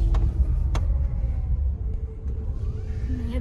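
Car engine idling and rumbling low as a learner driver eases off the clutch, a steady near drone with a few faint clicks and no speech.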